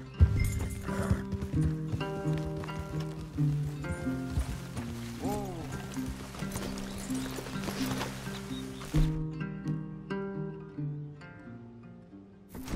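Horses in Red Dead Redemption 2 clop and shuffle over a layered game soundtrack, with a whinny in the middle and mechanical clanks scattered throughout.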